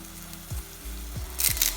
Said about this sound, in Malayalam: ഇനി ഇതിനകത്തേക്ക് നല്ല പച്ച കരിയാപ്പല ഇട്ട് കൊടുക്കണം.